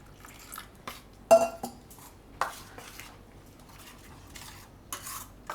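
A spoon stirs besan and tomato batter in a bowl, making soft irregular scrapes and a few sharper clinks against the sides, close and fairly quiet, with brief pauses between strokes and no talking.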